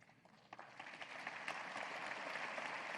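An audience at a university address applauds panelists and organizers of an AI Symposium, the clapping starting sparse and swelling into steady, fairly distant applause.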